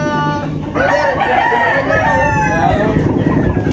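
A rooster crows loudly and close on a gamefowl farm, a long wavering call lasting several seconds, with clucking and other fowl sounds around it.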